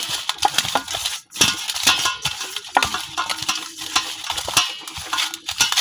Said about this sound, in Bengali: হলুদ লবণ হলুদ আর না এখন মাছের সাথে খুব ভালোভাবে মিশাই নিলাম